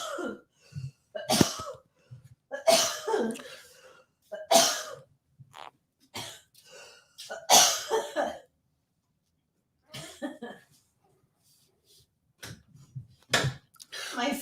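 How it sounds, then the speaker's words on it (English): Several short, sharp coughs come in bursts with pauses between them, close to the microphone, and bits of casual talk are mixed in during a relaxed chat between friends. "My fake cough made me real cough."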